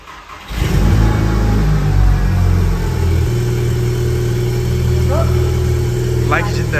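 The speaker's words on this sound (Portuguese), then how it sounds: "Vamos mostrar o Cold Start." Cold start of a Volkswagen Jetta tuned to Stage 3 with a flutter valve: the engine catches abruptly and settles into a loud, steady, high idle that stays close and dominant, with a couple of brief chirps near the end.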